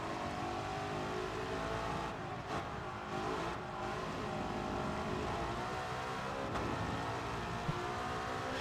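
A 1955 Mercedes F1 car in a racing video game gives a continuous high-revving engine drone with dense harmonic whine, held steady with brief lifts around shifts and corners, loud and close throughout.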